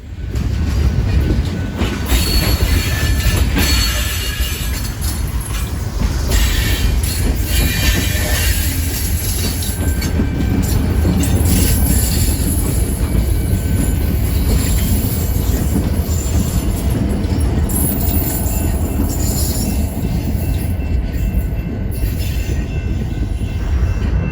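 A BNSF freight locomotive shoves rail cars steadily past at close range during switching moves in Chicago's southwest suburbs, with continuous rumbling, clanking wheels and high metallic squeals, no voices.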